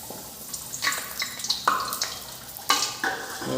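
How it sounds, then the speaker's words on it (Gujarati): Puri fries in boiling oil in a small pot, giving irregular bursts of crackling and bubbling sizzle that rise and fade close by, with no talking. "તો આપણે તળવાનું ચાલુ કરી દઈએ. જો તેલ ઉકળવા માંડી છે."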